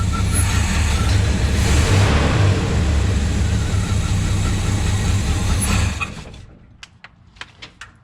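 A Chevrolet Suburban that has sat for five years, cranked with the throttle open as it tries to start, a loud steady grinding roar close by that cuts off abruptly, followed by a few faint clicks and knocks.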